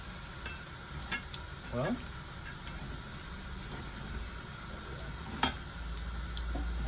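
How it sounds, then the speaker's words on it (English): Steady, faint sizzle of oil heating in a frying pan for breaded fried chicken, with light clinks and ticks of utensils; a voice speaks briefly over it. "As you can hear the sizzle in the background, my oil is already heating."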